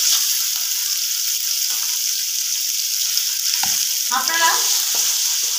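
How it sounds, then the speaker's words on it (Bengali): Chopped chicken frying in a pan as a snack, a steady loud hiss of sizzling oil with a brief stir scrape and a short spoken word partway through. "কুচিয়ে রাখা চিকেন দিয়ে দিলাম।"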